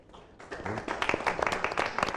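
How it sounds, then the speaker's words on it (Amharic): Thin, scattered clapping from a studio audience at an Ethiopian TV prize-award show, rising after a quiet start into loose, uneven claps with a brief voice mixed in. "ጭብጨባው አነሰ።"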